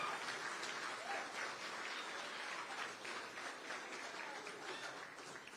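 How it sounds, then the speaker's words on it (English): Sustained audience applause at a soccer foundation gala honoring student athletes, a dense, steady wash of many hands clapping that holds at even loudness throughout without a break. "I'd like to have a round of applause for all of these student athletes"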